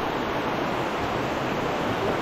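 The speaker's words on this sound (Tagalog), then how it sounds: "Ayan o, bukal na malaki." A large natural spring in Quezon pours out with a steady, full rush of water, a continuous broadband roar close by with no break and no talk over it.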